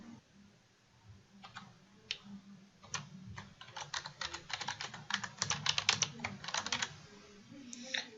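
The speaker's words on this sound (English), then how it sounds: "I type in the author, and I type in the title of the article" Clicky keystrokes on a computer keyboard, sparse at first and then quickening into brisk, irregular bursts of close, crisp taps.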